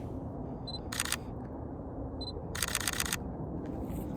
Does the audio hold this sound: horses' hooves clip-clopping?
no